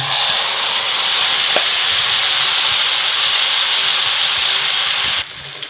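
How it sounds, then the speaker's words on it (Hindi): A samosa omelette paratha frying in hot ghee and oil gives off a loud, steady sizzle and hiss, close and unbroken for several seconds before it abruptly drops lower near the end. "चलिए जी, अभी डाल देते हैं गरम तेल, और घी हमारा गर्म हो गया"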